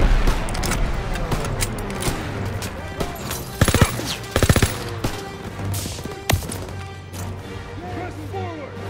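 Rapid machine-gun bursts and single gunshots in Call of Duty WWII, loud and sharp, clustered in a few intense volleys over a steady rumbling battlefield background, with shouted voices mixed in.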